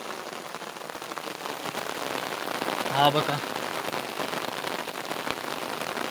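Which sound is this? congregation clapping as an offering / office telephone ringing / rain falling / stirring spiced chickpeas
rain falling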